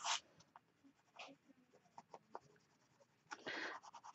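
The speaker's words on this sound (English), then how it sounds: "So this is just charcoal pencil." Charcoal pencil rubbed and blended on paper, soft scratchy strokes coming in short irregular bursts, close up and fairly quiet, with a longer stronger stroke near the end.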